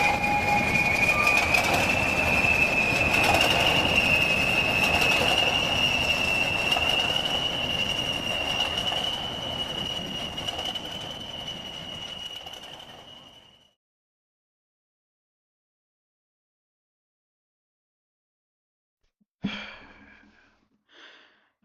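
A passenger train runs along the rails with loud, steady wheel squeal and rumble, fading out after about thirteen seconds into silence before a brief knock and rustle near the end.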